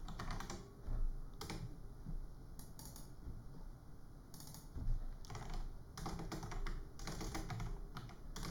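Fingers roll rapidly across a computer keyboard, producing bursts of clattering keystrokes with brief pauses between them, close and moderately loud over a faint fan hum.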